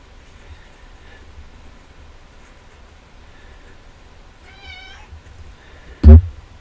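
A single cat meows once, faint and fairly close, against a quiet room hiss, followed by a brief louder knock near the end.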